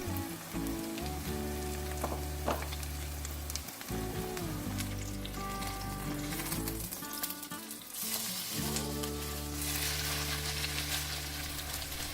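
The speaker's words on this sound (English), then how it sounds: "Put the pancake batter into the pan." Chive pancake batter sizzles and crackles steadily in a hot pan, a dense continuous frying hiss with a low hum beneath it.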